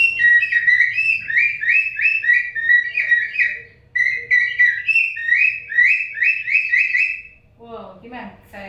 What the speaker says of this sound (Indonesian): ini kayak peluit suara gitu burung